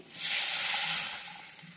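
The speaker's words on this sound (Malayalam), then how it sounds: "ഇനി വെള്ളം ഒഴിച്ച് കൊടുക്കാൻ പോകുകയാണ്." A loud, steady hiss of sizzling breaks out suddenly as water is poured into a hot pan of sautéed masala for fish curry, holds for about a second, then slowly fades, with no voices.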